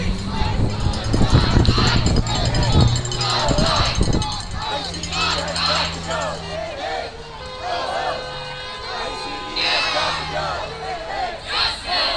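Crowd chanting at an outdoor vigil in a park plaza in Kansas City, Missouri: loud rhythmic group chants and shouts fill the space continuously, with a nearby voice talking and breathing over them.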